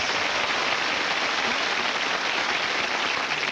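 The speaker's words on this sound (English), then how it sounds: "Give him a big round of applause, please" A large telethon audience gives a sustained round of applause, dense and even like heavy rain, filling the space without any talk over it.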